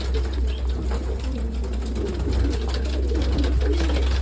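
Pigeons coo softly in a loft, a low murmuring burble under constant hum and background noise, with no one speaking.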